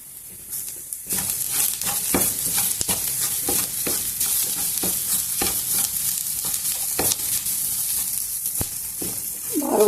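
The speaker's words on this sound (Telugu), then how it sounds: "ఎల్లిపాయ కారము జీలకర్ర ఇది వేసేసి కొద్దిసేపు దీంతో పాటు వేయించుకున్నాము ఆలుని" Potatoes fry in a pan with crushed garlic, chili powder and cumin, giving a loud, continuous sizzle. Repeated scraping and stirring strokes of a spoon sound close up, with no speech over them.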